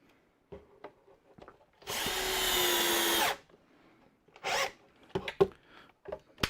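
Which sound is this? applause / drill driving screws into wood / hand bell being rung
drill driving screws into wood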